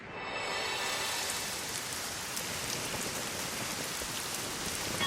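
Steady rain pours down, a dense even hiss of drops on a surface, continuous and moderately loud with no voices.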